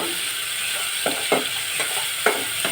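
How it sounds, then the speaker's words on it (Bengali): Onions frying in oil in a pan for a small-fish curry, with a steady broad sizzle underneath and several short scraping stir strokes at irregular intervals, close and moderately loud, no voices. "তেলের মধ্যে পেঁয়াজগুলো ভেজে নিচ্ছে"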